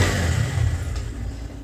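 A motorbike engine hums steadily nearby outside a home during an evening in a village household, a continuous low rumble with no clear pass-by swell, no talk over it.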